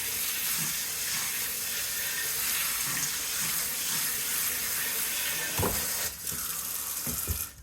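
Warm water runs steadily from a kitchen tap as a broad, continuous hiss while a spaghetti squash dish is being prepared. The flow is close and constant, with a few knocks and clatters near the end.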